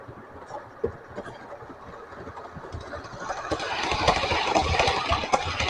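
Model railway trains in motion produce a low rumble and rattle that starts faint and grows steadily louder as the trains approach, with no talking.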